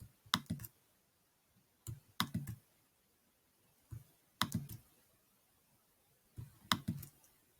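A computer mouse clicks in small bursts of two or three sharp, close clicks, repeated about every two seconds against a quiet background.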